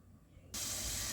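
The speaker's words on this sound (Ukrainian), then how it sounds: "Моркву та цибулю обсмажую на суміші рослинної олії та вершкового масла" A sudden loud sizzle bursts in after a quiet moment, a steady hiss as carrot and onion hit a hot mix of vegetable oil and butter in a pan.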